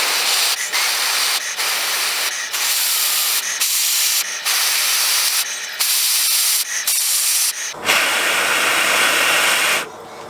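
Aerosol spray cooling an engine thermostat during an overhaul produces loud, close hissing bursts in a stuttering series of short sprays, then one longer continuous blast, alone without talk.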